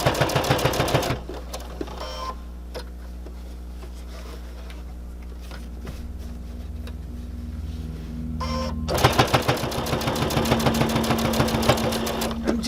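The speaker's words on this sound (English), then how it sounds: "So I want to make sure I stitch a little bit past that center seam" A sewing machine stitching a fabric mask past its center seam whirs in a short burst, falls quiet to a low hum, then starts again in a longer, rapid, close run.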